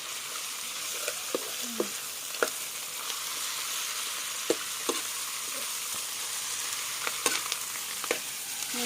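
Vegetables with chu leaves stir-fried in a pan by a home cook, giving a steady sizzle with scattered clicks and scrapes of stirring, close and alone with no talk.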